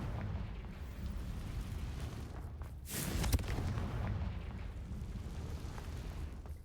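The Confringo fire spell from the video game Hogwarts Legacy detonates as a single loud, broad burst midway through, set against a steady rumbling game ambience.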